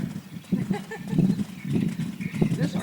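A gaited horse cantering under a rider, its hoofbeats thudding in a steady rolling rhythm close by, with a voice speaking over the movement.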